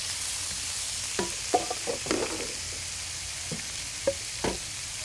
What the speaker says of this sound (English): Ooh, nice and sizzling there.